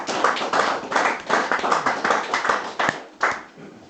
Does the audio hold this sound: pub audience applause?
yes